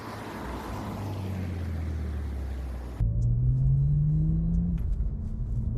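A BMW 130i hot hatch with a large engine up front on a spirited drive along twisty country B roads, its steady engine drone and road rumble continuous throughout, rising slightly as it pulls.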